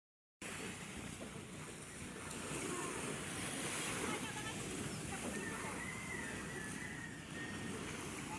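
Sea waves roll and wash at a beach in a steady, broad surf roar, with wind buffeting the microphone throughout.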